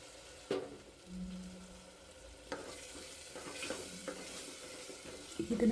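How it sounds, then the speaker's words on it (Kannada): A paste of coriander, mint and green chili fries in oil, giving a soft sizzle broken by a few stirring knocks and scrapes, close and fairly quiet with no voices. "ಇದನ್ನು ಚೆನ್ನಾಗಿ ಫ್ರೈ ಮಾಡ್ಕೊಳ್ಳೋಣ ಎಣ್ಣೆಲಿ"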